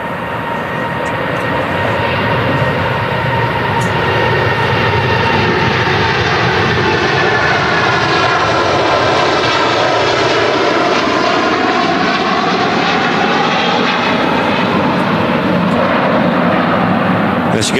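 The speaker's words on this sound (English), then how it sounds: "There she goes, the Gulf Dreamliner." A Gulf Air Boeing 787 Dreamliner takes off at Manchester Airport, its loud jet roar rising and sweeping past steadily with faint chatter beneath.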